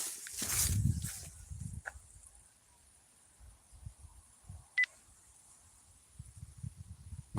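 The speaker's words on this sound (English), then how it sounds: "My sound recorder just turned itself on. Did you hear the beep?" A portable sound recorder gives one short, faint electronic beep as it switches itself on during an outdoor investigation at Gallows Hill in Skidby, heard amid rustling handling noise and light thumps.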